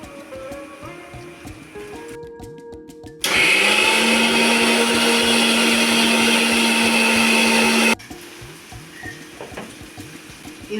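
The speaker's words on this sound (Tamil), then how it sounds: "இப்போ ஒரு மிக்ஸி ஜாரில் 1/2 மூடி தேங்காய் துருவி போட்டு தண்ணி ஊற்றி அரைச்சி எடுத்துகிட்டு வந்துடலாம்." Mixer grinder whirring as it grinds grated coconut with water in a mixie jar, a loud steady motor roar lasting about five seconds, starting and stopping abruptly, with quieter kitchen sounds before and after.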